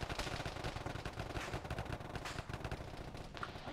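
Dense, continuous gunfire in the military game Arma, played by ShackTac: overlapping rifle and machine-gun bursts form a steady rattling barrage, faint and somewhat distant, with no clear talk.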